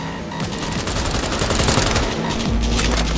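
Dense, continuous gunfire rattles through a vehicle chase in the video game Cyberpunk 2077, with overlapping bursts and booming hits layered over engine and action noise at a steady, loud level.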